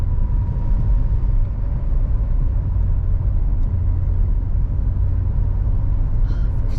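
A manual car's engine drones and rumbles in a racing video game, a loud, continuous mid-pitched hum with slight shifts in tone as it downshifts, no voices heard.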